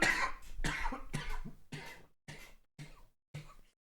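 A person coughs repeatedly, a burst of harsh coughs that slows into a few separate, fading coughs, close and alone with no talk.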